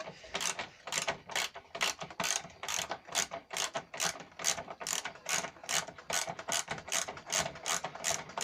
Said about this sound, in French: enlever la vis de 10 avec une clé de 10